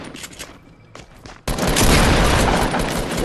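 A loud burst of rapid gunshots in the Fortnite battle royale erupts suddenly after a quieter stretch and keeps rattling close and heavy to the end.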